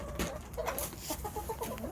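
Chickens clucking in a backyard coop and run, several short overlapping clucks close by in a busy, uneven rhythm, with no talking.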